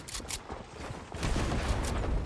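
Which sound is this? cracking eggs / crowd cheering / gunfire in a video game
gunfire in a video game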